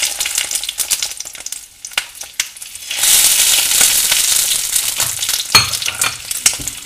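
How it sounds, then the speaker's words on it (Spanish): Butifarra sausages frying in a separate pan, a steady sizzling hiss that swells louder midway, with occasional crackles and pops, close by and without speech. "en una sartén aparte prepararé las butifarras"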